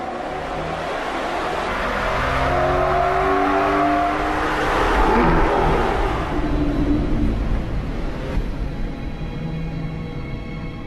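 An Aston Martin Vantage on a closed factory test track accelerates past at around 120 to 130 km/h, its engine rising to a loud, steady roar before fading slightly as it moves away.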